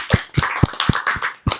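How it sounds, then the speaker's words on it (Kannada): Hand clapping, roughly seven sharp, close claps in a loose steady rhythm, heard alone indoors after a guessing game. "ಹೊಡಿರಿ ಗಣೇಶ್ ಅಂಕಲ್ ಒಂದು ಚಪ್ಪಾಳೆ."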